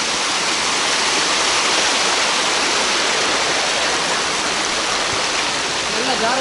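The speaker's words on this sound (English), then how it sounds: "the water is coming from this cave" Water flowing out of a cave stream near a waterfall in Ira village: a dense, continuous rushing hiss, loud and close, holding steady without pause.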